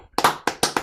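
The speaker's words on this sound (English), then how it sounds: "A little applause over the Zoom." A few people clap in a small group after a Brahms clarinet trio concert, heard over a video call: about four sharp, separate bursts of hand claps, close and fairly loud, with no talking.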